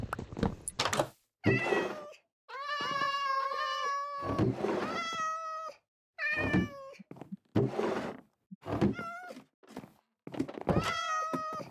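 Several Minecraft cats meowing in a series of distinct, drawn-out calls separated by short pauses, some overlapping, with a few dull thunks between them, loud and close.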